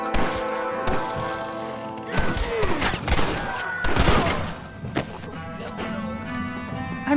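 Rapid gunfire in the Red Dead Redemption video game: repeated sharp shots and thuds in irregular bursts, with someone shouting between them.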